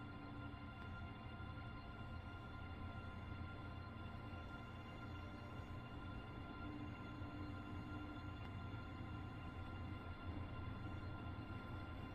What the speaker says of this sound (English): We're moving a train.